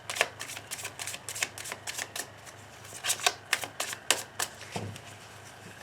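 Tarot cards shuffled and cut close up, a run of crisp riffling flicks and soft slaps in an uneven rhythm, alone without talk.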